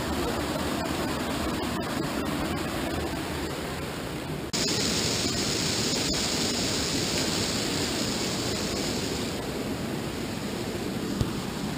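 A waterfall produces a constant, dense rushing roar close by, with water pouring steadily and no breaks, and a slight jump in loudness partway through.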